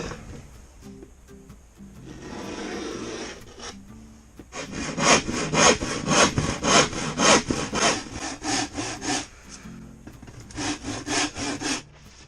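A hand saw cuts through wood for a quail cage in steady back-and-forth strokes, close and fairly loud, with a short pause before a final run of strokes.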